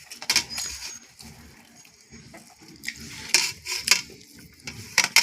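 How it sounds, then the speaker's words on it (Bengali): Plates and cutlery clink and scrape close by during a rice lunch with greens, egg curry and fried eggplant, in irregular bursts of sharp knocks between quieter moments. "দুপুরে ভাত খেতে বসে গেছি আমি"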